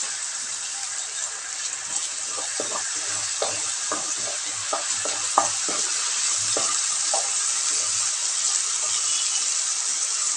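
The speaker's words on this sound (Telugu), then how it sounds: "ఉల్లిపాయ ముక్కలు వేగిపోయినాయి కదా, ఇప్పుడు ఇందులోకి మనం చేసి పెట్టుకున్న టమాటో ప్యూరీ." Tomato puree stirred into frying onion pieces for an okra masala curry, a steady loud sizzle of the pan with repeated spoon scrapes and stirring knocks running throughout.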